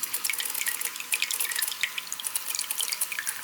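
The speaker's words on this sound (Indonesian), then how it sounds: "Nah, udah mulai ngalir nih." Water runs into a water dispenser in a close, continuous bright trickle with dripping, splashing texture and no voices.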